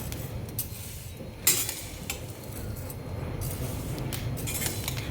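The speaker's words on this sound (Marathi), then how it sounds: "आपण हे अतिशय लो फ्लेमवर भाजणार आहोत जेणेकरून ते धान्य करपणार नाहीत हे बघा असं आपल्याला एकसारखं हलवत राहायचे आहे" Grains for thalipeeth bhajani are stirred continuously in a pan while dry-roasting over very low flame, with soft scraping and intermittent metallic clinks of a spoon against the pan, fairly quiet and close.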